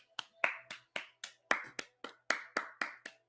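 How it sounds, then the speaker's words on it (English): A dozen sharp, evenly spaced hand claps ring out close and alone, each a crisp separate smack with brief silence between. "Y'all, please clap for Jeffrey."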